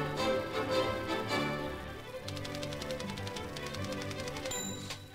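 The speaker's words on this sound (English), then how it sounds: "there's a mechanism which advances the carriage as the keys or spacebar are struck." Keys of an early antique typewriter finished in bronze and copper strike in quick, light ticking bursts over a steady background hum, faint and mechanical with no voices.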